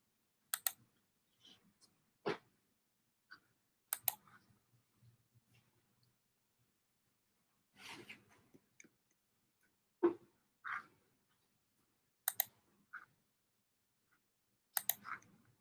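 Computer mouse clicks during photo editing software work on wildlife images, sparse sharp single and double clicks scattered across a quiet room, with brief faint murmurs between them.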